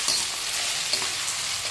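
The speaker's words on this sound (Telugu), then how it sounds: "ఆనియన్ అయితే బాగా ఫ్రై అయ్యేదాకా ఉన్నాము" Onions frying in a pan make a dense, even hiss of crackling oil, close and continuous, with a couple of faint stirring taps and no voices.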